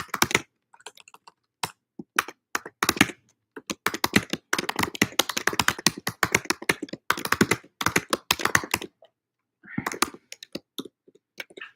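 Rapid typing on a computer keyboard, close and crisp, with bursts of quick key taps separated by short pauses and no talking.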